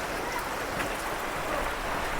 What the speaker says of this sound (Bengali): বাইরে আপনার টিপটিপানি বৃষ্টি, মানে সকাল থেকে পড়তেছে আর কি।